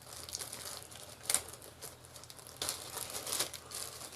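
A small plastic bag holding four little plastic feet and four screws from a Parkside PMFS 200 B2 multi-function sander, crinkling close up in short handling bursts, with sharper rustles and faint clicks of the parts inside.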